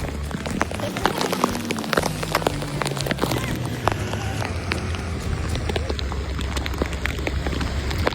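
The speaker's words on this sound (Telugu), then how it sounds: "ఇక ఈ వర్షం కంటిన్యూస్గా ఇలాగే కురుస్తుండడం వల్ల" Continuous rain falls on a street in Goa, a steady dense patter of drops on surfaces with scattered louder splashes, evenly loud for the whole stretch.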